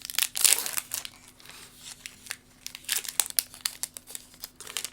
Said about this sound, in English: these packs are all opening easily enough